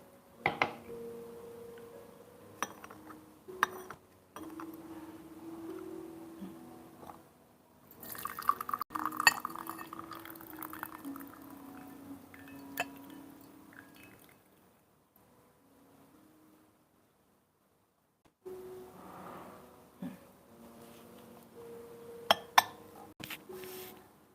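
Hot water is poured into a teapot of aged raw puer tea and then poured back out, with soft trickling, dripping and faint ceramic clinks at close range, interrupted by a quiet pause midway.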